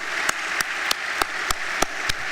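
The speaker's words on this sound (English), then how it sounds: "With your applause, please thank these young people again." A high school senior assembly crowd applauds seniors in a continuous wash of clapping, with a few sharp, evenly spaced loud claps standing out near the microphone over the moderate, steady background applause.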